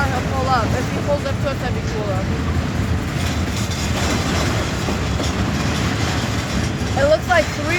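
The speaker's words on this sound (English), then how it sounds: "looks like 3 locomotives up the CSX." Locomotives roll past at night with a continuous rumbling rail roar and rhythmic clatter of wheels, close and loud, while a person talks over the noise.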